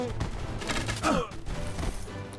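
Fantasy strategy battle gunfire from Age of Wonders 3, a quick burst of several overlapping shots with crashing impacts, loud and close, with a voice talking faintly underneath.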